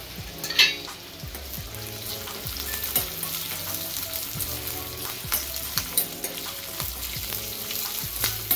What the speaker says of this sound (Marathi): तूप चांगलं गरम झालं का आपण घालूया हिंग, मिरची आणि कस्तुरी मेथी.